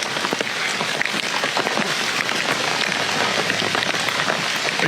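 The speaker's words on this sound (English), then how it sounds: "It's raining." Steady rain patters and splashes on surfaces close by, a dense, even wash of drops that goes on throughout with no voices.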